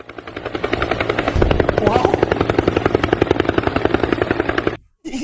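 A helicopter's rotor thumps in a fast, steady rhythm, loud and close, before the sound cuts off abruptly near the end.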